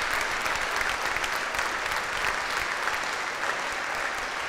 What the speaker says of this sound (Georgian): დემეტრე ოკრიაშვილი, მკურალე აპლოდისმენტებით გაცილებთ სცენიდან.